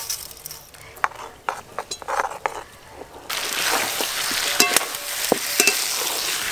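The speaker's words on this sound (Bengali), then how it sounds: "ভেজে রাখা সিমুই দিয়ে দেব।" Fried vermicelli for payesh added to a pan with bay leaf, cashews and cardamom: scattered clinks and scrapes of stirring, then a steady loud sizzle of frying with spoon taps on top.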